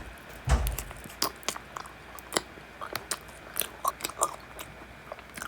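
Someone bites into jelly candy and chews it close up, with one soft thump at first and then a string of quiet, squishy, slightly crunchy chewing sounds.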